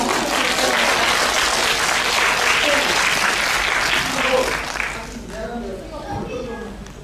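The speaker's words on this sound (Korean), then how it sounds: "여러분 큰 박수 부탁드립니다." An audience at a Korean-language world speech contest bursts into loud applause, a thick roar of clapping that fades toward the end, leaving scattered claps and faint voices.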